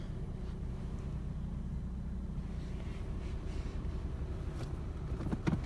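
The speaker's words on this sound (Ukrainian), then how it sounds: "Моторчик робить чистенько." A Renault Megane engine idles with a steady low rumble, close by and continuous, with no talking.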